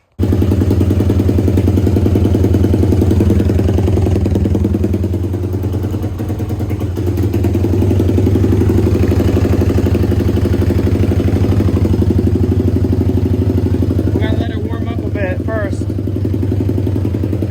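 A Pitster Pro X4 pit bike engine runs at a steady, loud, buzzy idle with a rhythmic clattering pulse. It holds fairly even throughout, with a brief dip partway and some faint clicks late on.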